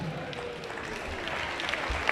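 Crowd at a boys' high school basketball final in a gym gives scattered, moderate applause, a steady patter of clapping with some murmur of voices underneath.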